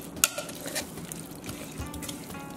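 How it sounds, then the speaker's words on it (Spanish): Cilantro shrimp mixture seasoned with salt and pepper is whisked in a bowl, giving a sharp clink and then quick uneven scraping and sloshing taps up close. "Ahora se bate muy bien batidito esto"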